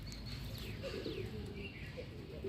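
Rooftop pigeons, including a wild one nearby, give soft low coos with a few thin chirps and whistly sweeps, quiet and continuous over background hiss.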